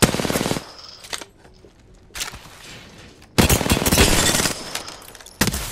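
Smart bullets firing in Apex Legends: rapid bursts of automatic gunfire in two loud stretches, with a quieter gap between them and a final sharp shot at the end.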